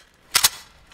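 Two quick gunshots crack almost back to back at a shooting gallery in the game Ready or Not, sharp and close, followed by a brief fading tail and no speech.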